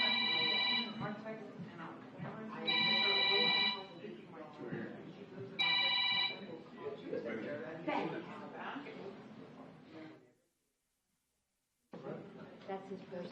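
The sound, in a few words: personal mobile phone ringing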